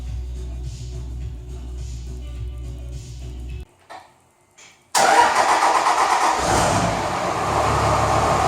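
A diesel engine, just refitted with a replacement injector nozzle, cranks and fires up on a very cold morning, then settles into a loud, steady, close idle with no talking.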